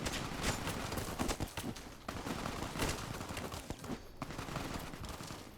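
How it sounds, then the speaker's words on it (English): Rapid gunfire in the video game Fallout: New Vegas crackles as a battle rages, dense bursts of shots that come thick and steady throughout with little pause. "I sure hope they're shooting at the legionary"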